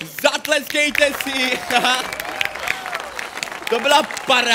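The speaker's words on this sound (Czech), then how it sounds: "Zatleskejte si!" Children's audience clapping at a live kids' show, a steady broadband patter running throughout while a presenter keeps talking over it.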